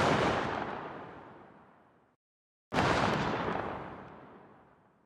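Two outdoor gunshot tails from a sci-fi video game weapon, each a loud noisy burst that decays smoothly into a long fading echo, separated by a brief silence.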